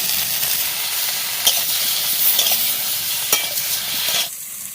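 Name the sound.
chili and turmeric added to sizzling chicken curry pan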